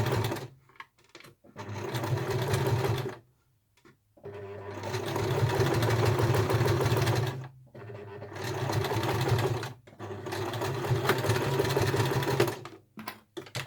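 A sewing machine stitches a snap-shut glasses case in three or four loud, close bursts of rapid mechanical whirring, separated by brief silent pauses.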